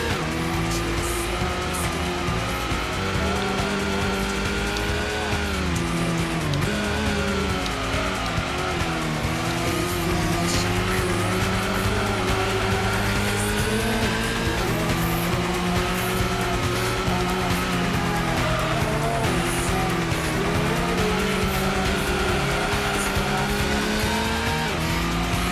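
Race car in Gran Turismo driven hard, with a loud continuous engine whine rising and falling through gear changes and tires squealing through corners, sustained throughout with no voices.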